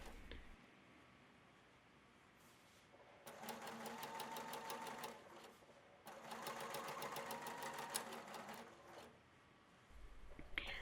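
A sewing machine stitches swimwear fabric in two long bursts of fast, rhythmic needle clatter. The bursts are separated by quiet pauses, and a brief start of stitching comes again near the end.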